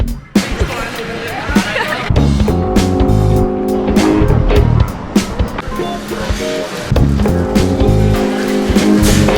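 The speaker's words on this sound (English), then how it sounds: "These are the cable cars." San Francisco cable cars pass close by, a loud steady rumble and clatter of wheels on the track with repeated sharp metallic knocks and tones.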